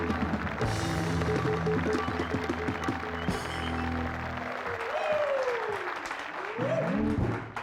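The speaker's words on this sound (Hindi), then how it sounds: "जोरदार तालियों से स्वागत कीजिए" A studio audience claps to welcome guests on a television talk show, a dense, sustained applause under music and voices, with a rising synth sweep near the end.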